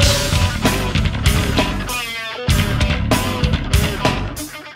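Loud, dense rock music plays in full, with punchy drums and busy bass-driven grooves in a choppy, rhythmic pattern, with no talk over it.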